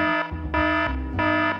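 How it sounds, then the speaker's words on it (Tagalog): A school alarm bell in Minecraft rings in three loud, sustained bursts with short gaps between them, a harsh buzzing tone sounding alone without any voices. "Oh no, nag-alarm na"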